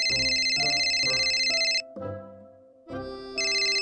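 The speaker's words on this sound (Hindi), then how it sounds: "ये लो टीना सलोन से फोन आ रहा है।" A mobile phone ringtone sounds for an incoming call in a Pakistani drama scene, a loud repeating electronic melody in steady bursts with a short pause midway, no voices over it.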